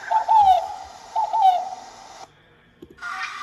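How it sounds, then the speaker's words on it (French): An AI-generated owl hoots in two repeated calls, clear and fairly loud, followed by a short pause and a brief burst of other generated sound near the end. "En plus, un hibou."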